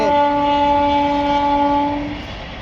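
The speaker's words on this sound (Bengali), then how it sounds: "দেখো ট্রেন যাচ্ছে" A train's horn blares loud and close in a sustained, harmonically rich blast that fades away near the end, over low rumbling of the passing rail cars in an open rural setting.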